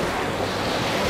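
Rough sea surf breaking on a high, rocky Black Sea shore near Anapa, a steady loud wash of waves mixed with gusty wind noise on the microphone, with no voices.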